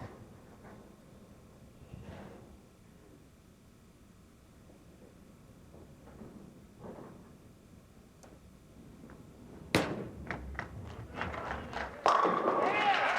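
A bowling ball strikes the pins in a televised tenpin bowling match, a sharp crash after a quiet stretch of low commentary, followed by a rising crowd roar.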